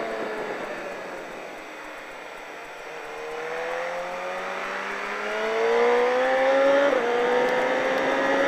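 A race car accelerating on a track, its engine note climbing steadily through the gears and growing louder as it overtakes another car, with a brief dip at a shift and continuous wind and road noise underneath.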